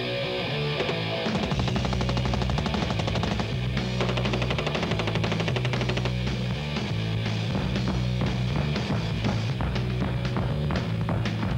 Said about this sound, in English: The barrel on the MPK is 6 inches long, and I'm shooting it with a 30-round magazine.